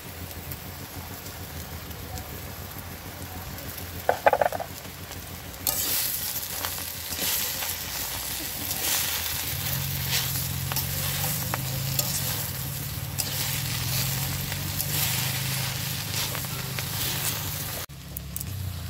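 Taro leaves fry in oil with garlic, chilli, salt and turmeric, sizzling steadily while repeated stirring scrapes the pan. The hiss grows louder and fuller partway through and holds until an abrupt stop.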